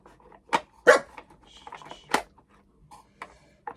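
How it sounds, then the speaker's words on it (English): A dog indoors barks at a car outside, a few sharp barks and yips spread unevenly, moderately close but not loud, with no talk over them. "She barks at anything that moves."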